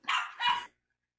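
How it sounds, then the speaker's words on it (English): A dog gives two quick, sharp barks close by, then everything falls silent. "Sorry for the dog."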